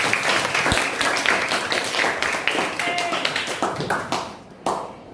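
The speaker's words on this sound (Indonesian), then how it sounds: "Tepuk tangan dulu untuk teman-temannya" Schoolchildren in a classroom clap for their classmates, a lively patter of many hands close by that loosens into a few separate claps before stopping.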